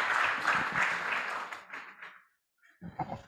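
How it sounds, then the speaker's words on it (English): An audience at an anniversary gathering applauds, with dense clapping that fades out within about two seconds, followed by a brief pause and a few scattered sounds at the end. "A round of applause."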